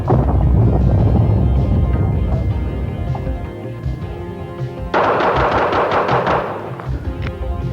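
Fast-draw revolver shots fired rapidly in a quick string, loud and close, with a harsher burst of cracks near the end over a steady rough background.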